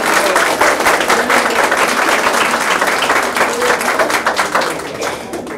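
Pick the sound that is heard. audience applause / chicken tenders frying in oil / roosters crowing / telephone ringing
audience applause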